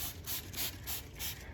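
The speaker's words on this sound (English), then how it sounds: "Spray the mirror." A spray bottle mists a mirror during window and mirror cleaning, with a series of short, evenly spaced hissing pumps, close and fairly soft, and no talking.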